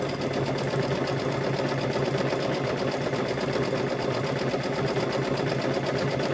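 A sewing machine runs a continuous, even stitch through welding hat fabric, a dense rapid mechanical chatter close by with no breaks and no voices.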